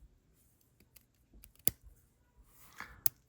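An old Wingmatic ballpoint pen is clicked, giving two sharp, close, isolated snaps about a second and a half apart against a quiet background.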